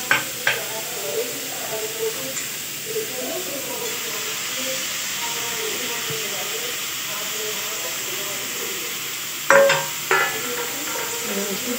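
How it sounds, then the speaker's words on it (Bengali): Tomato goes into a pan of frying vegetarian Maggi noodles, giving a steady, moderately loud sizzling hiss for the whole stretch, with a couple of sharp utensil clacks near the start and again toward the end. "এবার টমেটোটা দিয়ে দিই।"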